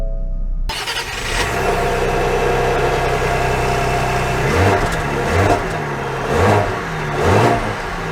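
A 2022 Ford Explorer Platinum SUV engine starts and runs steadily, with a continuous close mechanical hum and a few revving swells toward the end, no talking.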